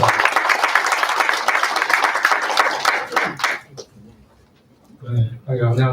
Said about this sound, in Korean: 박수로 해주시면 감사합니다